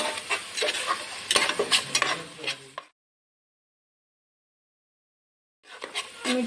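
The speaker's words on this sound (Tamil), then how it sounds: "லைட்டாக மிக்ஸ் பண்ணி விட்டுறேன்." Ginger garlic paste being stirred in a frying pan, a crackling sizzle with quick scraping strokes, then a sudden stretch of silence before the sizzling returns.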